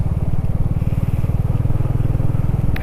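Motorcycle engine drones steadily and loudly during a ride, a close, even low pulsing hum with wind noise and no talk over it.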